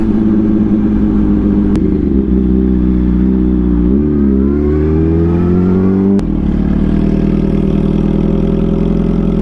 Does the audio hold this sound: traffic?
yes